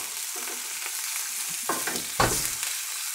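Stuffed pork chops hiss in a hot pan just after being flipped, a steady sizzle punctuated by two brief louder bursts of spitting fat and a light scrape.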